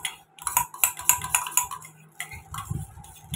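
A spatula spreads beaten egg across a flat bowl, producing a run of close, light clicking and scraping taps in uneven bursts with short pauses between them, and no talking.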